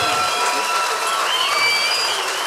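An audience applauds after a closing polka, a dense, even clatter of many hands clapping continuously, with a few high whistles cutting through.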